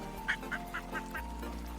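Cartoonish duck quacks from the Duck River browser game on 155.io, about five evenly spaced honking calls over a steady low hum, clear and close, no talk.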